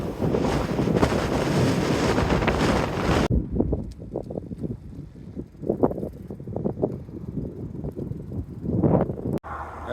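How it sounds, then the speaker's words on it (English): Strong wind buffets the microphone while cycling on a prairie road between Lethbridge and Medicine Hat in western Canada. A heavy, constant roar for a few seconds drops to gusty, uneven blasts that rise and fall. "How windy it is."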